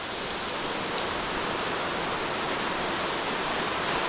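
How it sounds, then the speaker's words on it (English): Heavy rain pours down on a roof in a dense, steady hiss, loud and unbroken throughout with no voices. "It's raining out pretty hard"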